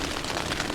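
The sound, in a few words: freezing rain falling on a tent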